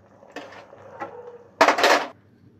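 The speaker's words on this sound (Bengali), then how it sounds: "কপি ডাঁটাগুলো আমি হাফ সেদ্ধ করে নিয়েছি, এবার আমি জল ছেড়ে নেব।" Water poured off half-boiled cauliflower stems from a cooking pot, a couple of faint clinks followed by a brief louder splashing gush, close by with no talking.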